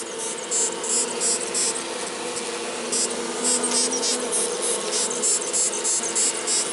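Live death's-head hawkmoth making its sound among bees during a bee rescue, a faint steady buzzing hiss with soft rhythmic high chirping pulses, close and continuous with no talk.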